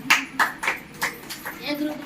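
A group of mothers at a breastfeeding awareness quiz claps in a short, uneven burst of several sharp claps, close and fairly loud.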